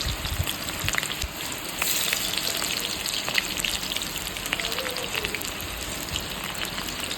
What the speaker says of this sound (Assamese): দালচেনি তেল গৰম হৈ গ'ল, পিঁয়াজ দি দিছোঁ।